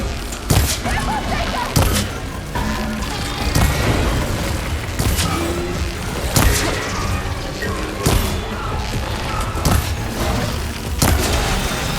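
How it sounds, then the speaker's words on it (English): A big explosion in the video game Horizon Forbidden West, heard as a series of loud booming blasts and thuds with battle noise, repeating every second or two over the full stretch, while voices call out over it. "Hey, big explosion! Watch out!"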